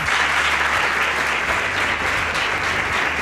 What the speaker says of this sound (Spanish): Alfa, desde aquí este aplauso